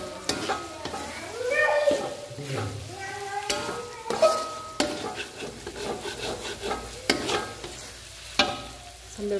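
Beef frying in a pan while being stirred for Padang-style gulai cincang, with steady sizzling under repeated scraping and clacking strokes of a spatula, close and continuous.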